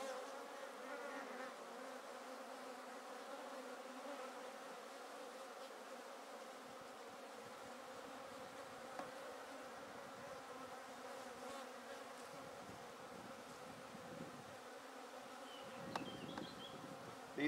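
Honeybees buzzing steadily around a pagoda hive during a colony move, a dense continuous hum that holds at an even level throughout with no voices.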